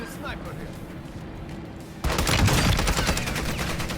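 Gunfire in the Warzone video game crackles as a rapid burst of close, loud shots that erupts suddenly midway and keeps rattling over a quieter opening, with a voice in the background.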